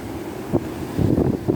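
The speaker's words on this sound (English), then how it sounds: "Boy, it's really windy out here." Strong wind blowing at the beach, a loud buffeting rumble hitting the microphone in gusts, with bursts of heavier blasts and no talk.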